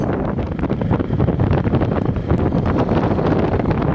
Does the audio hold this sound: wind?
yes